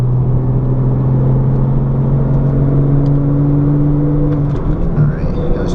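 A car engine drones steadily in sixth gear, a low sustained hum with a rising tonal whine, close and continuous under the road rumble, easing off near the end.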